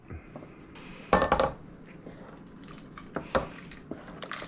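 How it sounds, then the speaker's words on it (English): Charred salsa verde vegetables being transferred into a pot, with a few sharp clanks and scrapes of a utensil against cookware and soft wet shuffling, close by and moderately loud. "now I'm going to get everything into a pot"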